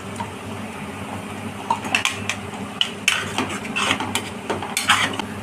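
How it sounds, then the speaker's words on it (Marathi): Ground masala paste with ginger paste is stirred in hot oil in a pan for chhole bhaji, soft sizzling under irregular spoon scrapes and clinks against the pan, close and moderately loud, with no talking. "आता हे वाटलेलं वाटप टाकते मी। तेल सुटेपर्यंत चांगलं हलवायचं हे।"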